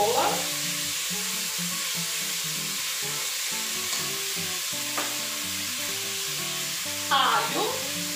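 Pork ribs and chopped onion sizzling in their own rendered fat in a pan, a loud continuous close fry with repeated scraping stirs and a brief louder burst near the end, no voices.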